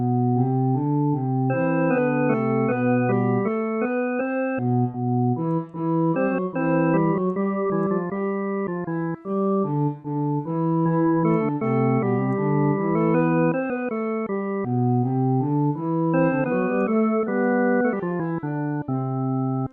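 Two-voice Bach organ canon at the ninth, pedal line and top voice in steady counterpoint, sustained reedy organ tones moving in continuous interlocking lines, full and even throughout with no talking.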